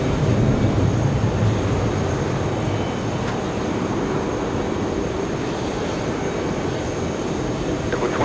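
A jet airliner takes off from runway 22 Right at JFK airport, a sustained broad roar that is a little stronger at first and then holds steady, with no voices.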